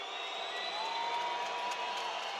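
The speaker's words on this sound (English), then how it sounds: "Have a listen to that crowd." A volleyball arena crowd at a CEV Champions League women's match between VakifBank Istanbul and Savino Del Bene Scandicci keeps up a steady distant roar of cheering and whooping, a continuous wash of voices with no clear commentary on top.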